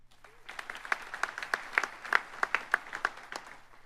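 An audience at a George Brown College graduation convocation breaks into applause that builds quickly into a steady, reverberant patter of many hands clapping in a large hall.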